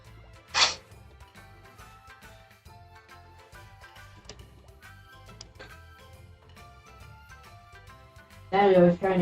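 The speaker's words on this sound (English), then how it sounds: "Daddy, I was trying to clear my nose after I sneezed" A single short sneeze bursts out near the start, followed by quieter speech and game music, with a loud noisy burst at the end.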